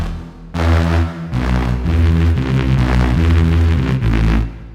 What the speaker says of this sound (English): So you hear the reverb a lot more